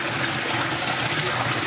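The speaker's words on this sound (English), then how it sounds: "the excess water now passes through the bucket into your second filter" Excess water from a homemade koi pond bio filter pours through a bucket into a second filter, a steady close rushing gush with no break and no talk.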